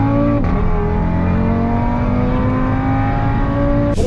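Stock Audi RS3 doing a launch start, its engine revving hard and loud and close, with rising harmonic whine through most of the run and a brief gear-change break near the end.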